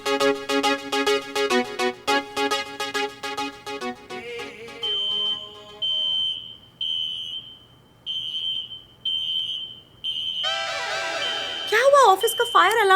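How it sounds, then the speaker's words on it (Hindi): An office fire alarm sounds in a series of loud, steady electronic tones repeating in even bursts, following an earlier stretch of harmonic music-like tones, with a warbling tone near the end. "ऑफिस का फायर अलार्म क्यों ऑन हो गया है?"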